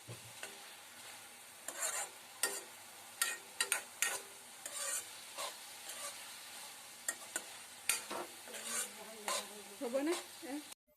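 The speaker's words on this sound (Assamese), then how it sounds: "এয়া চাওক আটাইখিনি ভালদৰে মিহলাই ল'লো" A spoon scrapes and stirs through taro stems frying in a pan, irregular strokes over a steady sizzle, close and fairly loud.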